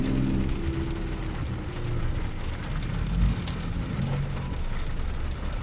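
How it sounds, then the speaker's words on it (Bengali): Heavy rain pours steadily in Thailand, a dense close hiss of drops on surfaces with low rumbling traffic underneath. "আর বৃষ্টি হচ্ছে প্রচুর পরিমাণে থাইল্যান্ডে আজকাল"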